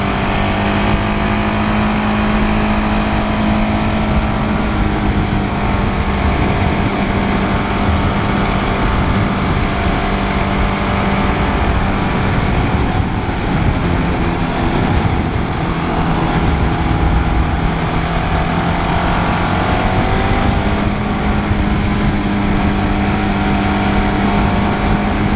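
Steady, loud engine drone from a 2015 KTM Duke 690 motorcycle while riding, a continuous low hum with a slight pitch dip and recovery partway through, mixed with rushing wind, no talk.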